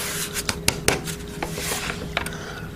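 An EGO LB5800 battery-powered leaf blower being pulled from its bag, with close crinkly rubbing and rustling of the bag and a few sharp knocks and scrapes from the plastic housing.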